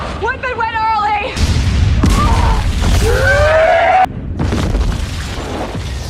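A booming napalm explosion from the 2001 film Evolution, with rumbling low end, whistling and shrill effects and a sharp crash midway, loud and dense.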